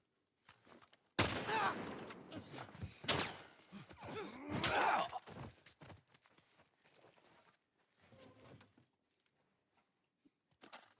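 Gunshots and combat noise in the video game The Last of Us Part 1, with a few sharp loud shots and scuffling sounds followed by quieter footsteps and movement.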